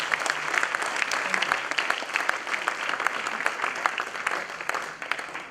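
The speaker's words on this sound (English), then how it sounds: "So I think he deserves a round of big applause for this" An audience at a moot court colloquium applauds, a dense, even wash of many hands clapping steadily from start to finish.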